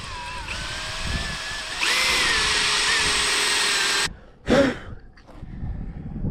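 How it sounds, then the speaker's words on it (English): A power drill whines steadily into concrete outdoors, rising in pitch as it bites, then stops abruptly, followed by a brief burst and outdoor ambience. "See if this stuff will drill into this concrete."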